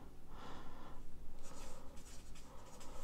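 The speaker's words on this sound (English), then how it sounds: "Let's write it down." Handwriting with a pen on paper, heard as faint, close scratching strokes in a few short bursts, quiet and alone.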